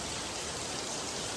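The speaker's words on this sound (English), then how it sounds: "you guys can see the rain from the gutter line right there" Heavy rain pours from a gutter outside a shop during a monsoon-like downpour, a steady, dense hiss and patter that holds evenly throughout at moderate level, with no voices.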